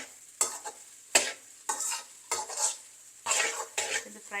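Egg fried rice being stirred and tossed in a hot pan, with repeated scraping strokes of a utensil over a soft sizzle, several distinct bursts in an uneven rhythm, close up and with no talking.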